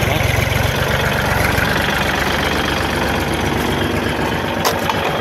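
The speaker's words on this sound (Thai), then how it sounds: "ตัว PTO อะหมุนปกตินะครับ" A used Kubota tractor engine idles loudly and steadily at close range with its PTO spinning, giving a continuous low mechanical rumble and no talking.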